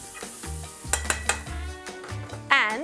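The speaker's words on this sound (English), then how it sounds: "Just toast off these spices." Smoked paprika, cumin and chili flakes toasting in a pan for duck carnitas: a soft background sizzle broken by a few sharp clinks of a utensil against the pan and a brief scraping stir near the end.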